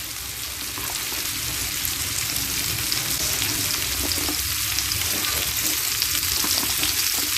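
Moringa drumsticks fry in a pan for a poli fish curry, giving a loud, steady, close sizzle that runs unbroken throughout.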